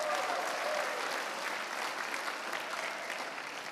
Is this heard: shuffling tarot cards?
no